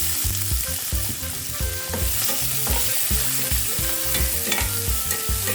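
Ingredients for chicken and shrimp sinigang sautéing in a pan, loud continuous sizzling with rhythmic stirring scrapes and clatter, no talking.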